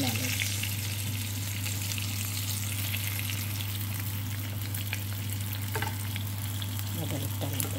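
Rice frying in leftover oil in a pan for a Filipino breakfast, a constant close sizzle with occasional stirring scrapes and a steady low hum underneath, no speech.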